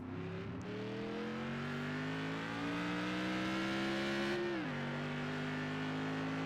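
A race car engine hums up in pitch as it pulls away, then the note dips briefly and settles into a steady, fairly close drone.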